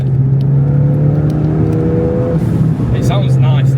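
A Ford Fiesta ST with a custom cat-back exhaust drones steadily from inside the cabin while driving, a loud, even engine hum with a slight rise in pitch, and voices talk over it near the end.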